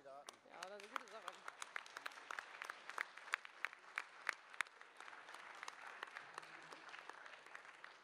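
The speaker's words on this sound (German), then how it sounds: "Einen Applaus für die Kandidaten." A room applauds the candidates at a Berlin party nomination meeting for the 2013 Bundestag election, with scattered, uneven clapping and sharp individual claps standing out, while a voice speaks briefly near the start.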